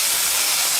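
Boiling water poured into a pot of gourd noodle soup gives a loud, continuous steamy hiss and rush, close up and unbroken for the whole short moment.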